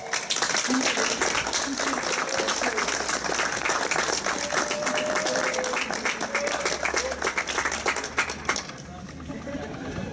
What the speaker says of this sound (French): Et je propose qu'on les applaudisse bien fort.